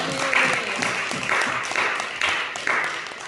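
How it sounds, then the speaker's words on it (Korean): A church congregation applauds steadily, dense clapping from many hands that swells in rhythmic pulses, moderately loud and continuous. "주님 앞에 박수로 영광을 올려드리겠습니다"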